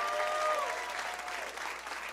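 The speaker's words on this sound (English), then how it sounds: "One more round of applause for Lydia Popovich." Comedy club crowd applauding a comedian after her set, a short even wash of clapping with a faint whistle or cheer near the start.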